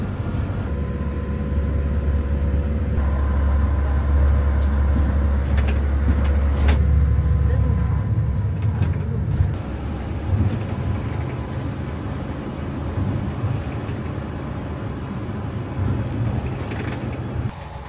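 Bus climbing a snowy winter mountain road on Mount Emei in Sichuan, with a continuous low engine rumble heard from inside for nearly eighteen seconds and occasional faint clicks and rattles.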